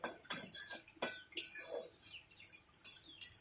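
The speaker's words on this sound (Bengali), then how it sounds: "এবার এটাকে ভালো করে নেড়ে চেড়ে দিচ্ছি" Whole spices (bay leaf, cardamom, clove, cinnamon and cumin) being stirred in a pan, heard as a quick series of close metallic clicks and scrapes from the spoon over a soft, faint sizzle.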